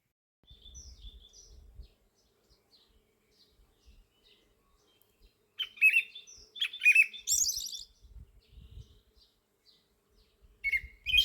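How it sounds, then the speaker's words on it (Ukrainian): A small bird sings brief high chirps and trills, fairly close, in short bursts separated by quiet pauses with faint low rumble. "Друзі, хто знає, що це за пташка?"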